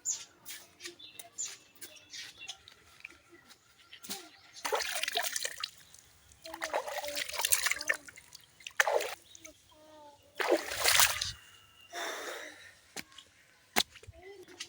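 A tap runs in short bursts for rinsing during tooth brushing and face washing, splashing and trickling in several separate spurts with quiet pauses between.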